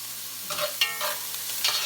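Vegetables sauté in a pan for chicken noodle soup, giving a soft, steady sizzle with a few brief stirring scrapes. The sound is fairly quiet and there is no talking.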